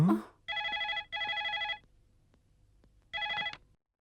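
A telephone rings in three electronic bursts, two back to back and a third after a short pause, fairly loud and alone with no talk.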